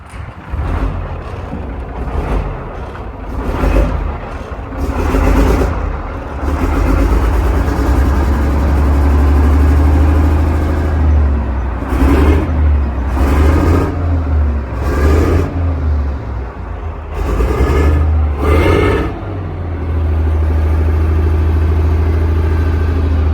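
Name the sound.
car engine idling and lightly revved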